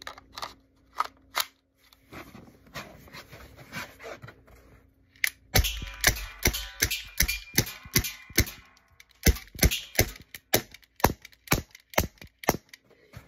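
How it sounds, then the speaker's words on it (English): A BB gun fires a series of sharp, loud cracks, irregularly spaced at first and then coming quickly one after another, close to the listener, with small clicks and handling noise between shots. "Time for the gun."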